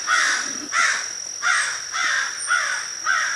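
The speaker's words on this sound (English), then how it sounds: "apparently the crows aren't too happy that I'm here." Crows at rural Kentucky woodland, about six loud harsh caws in an even repeating rhythm over a steady high insect whine.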